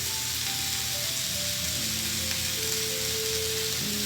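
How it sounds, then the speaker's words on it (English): Pork chops brown in a hot pan with a continuous, even sizzle and frying crackle that holds steady throughout, close and moderately loud, with no talking. "I'm gonna brown these on each side"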